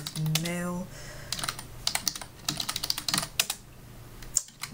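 Fingers tap a password on a computer keyboard in quick, irregular clusters of light keystrokes. A short voice comes at the very start, before the typing.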